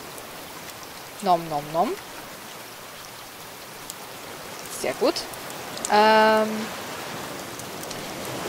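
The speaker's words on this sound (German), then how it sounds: "Der Regen macht das für uns, glaube ich" Steady rain hisses across the whole stretch in the survival game Raft, a soft even wash with short voiced bursts and a spoken line over it.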